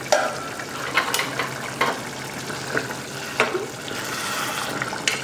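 Egg gravy is stirred in a pan, giving soft intermittent scraping strokes over a low bubbling simmer, moderately quiet and close, with no talking.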